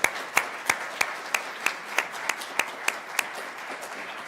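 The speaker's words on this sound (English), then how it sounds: "So I just want to give Sean a round of applause as well." Audience applause for Sean LaBar at an energy policy lecture event, sparse and fairly faint, with about a dozen distinct, evenly spaced claps standing out over a soft wash of clapping.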